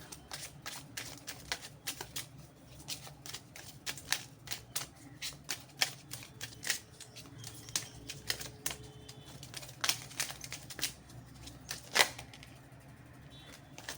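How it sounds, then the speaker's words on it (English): Soft, rapid clicks and riffling patter of tarot cards being shuffled, irregular and quiet, with occasional sharper snaps as cards are handled. "let's pull one card from this beautiful deck"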